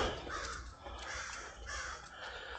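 Crows caw repeatedly outdoors along a rural route at sunrise, several harsh calls in an uneven rhythm at moderate distance over a faint background hiss.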